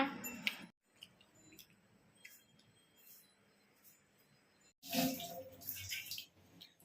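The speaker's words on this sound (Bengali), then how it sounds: "এই যে কটা বাসন মেজে নিল" Running water splashing over dishes being scrubbed in a sink, with a steady wash of flow in the middle and louder clattering splashes near the start and end.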